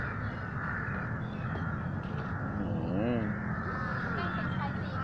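Crows caw while flying overhead at sunset outdoors, a few harsh calls standing out over a constant wash of ambient noise and nearby voices, moderately distant.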